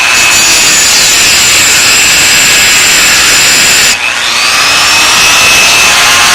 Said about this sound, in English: You mark it, take your Dremel tool, the same way you would do the rough out chain.